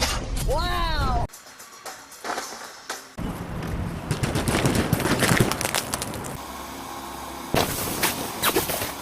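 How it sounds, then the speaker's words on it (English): Golf balls fired at 80 mph strike a hail protector on a car, landing as a dense run of loud, sharp impacts and rattling bangs over several seconds, with brief pauses between bursts. "20 golf balls shot at 80 miles an hour."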